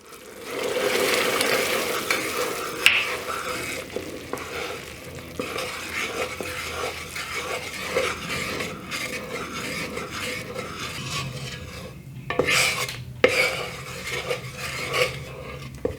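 Honey caramel with melted butter and vanilla being stirred in a pot, a steady close scraping and swishing with soft bubbling, continuous throughout with brief louder spoon knocks.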